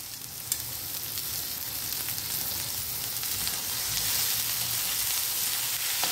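Carrots and green beans fry with onion in a pan, giving a steady loud hiss of sizzling oil with a soft thump or two from stirring, heard close with no talking.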